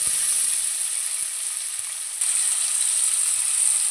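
Onions with a pinch of salt fry in hot oil for lote fish bharta, giving a loud continuous sizzle with faint low knocks from the stirring spoon, rising slightly partway through.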